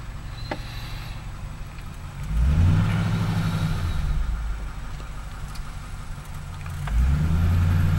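A 1949 Ford car engine hums steadily at low pitch, swelling twice as it accelerates and settling back, recorded from inside or close by.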